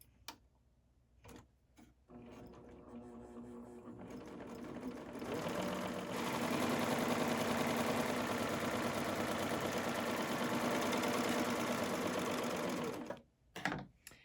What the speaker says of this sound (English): I'm always serging on the right side of the fabric when I'm finishing the seam